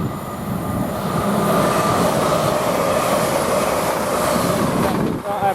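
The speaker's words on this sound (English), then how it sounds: "Now we've got a Lumo coming through." A Lumo passenger train passes through Grantham railway station, a loud, steady rumble of wheels and carriages rushing by close at hand, continuous throughout before easing slightly at the end.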